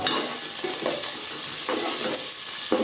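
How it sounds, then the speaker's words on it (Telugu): Onion and green chili pieces frying in hot oil, a steady close sizzle with a spatula stirring and scraping the pan at intervals. "కాసేపు నూనె వేడైన తర్వాత ఉల్లిపాయ ముక్కలు పచ్చిమిరపకాయ ముక్కలు వేసి కలుపుకుందాం"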